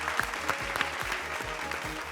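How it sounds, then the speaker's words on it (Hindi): Studio audience applauding a winning quiz team in a semi-final round of an Indian quiz show, steady dense clapping for about two seconds with a low rhythmic musical beat underneath. "तो जोरदार तालियां हो जाएं टीम ए के लिए।"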